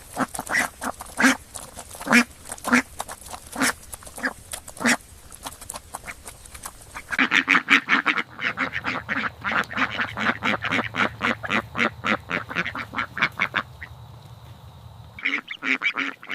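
Many ducks in a farm pen quack repeatedly and overlapping, loud and close, in busy irregular bursts with a low hum underneath at times.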